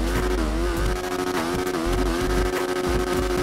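A loud, steady engine drone from a motorized shopping cart in a video game, with a low rumble and a revving pitch, like a small motor idling and surging, running continuously without speech.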